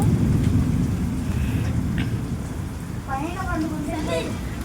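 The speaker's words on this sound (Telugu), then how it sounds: "సౌండ్స్ వినిపిస్తున్నాయండి మీకు కూడా. ఉరుములు, మెరుపులు" Heavy rain hisses steadily through a thunderstorm with a low rumble of thunder beneath it, heard close and continuous, and a voice talks briefly over the downpour near the end.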